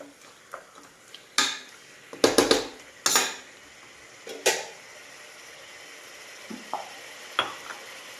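Chicken dum biryani mixture being stirred in a pot on the gas: a string of sharp metallic spoon scrapes and clanks against the vessel, bunched in quick clusters with quieter gaps between, close by and with no talking.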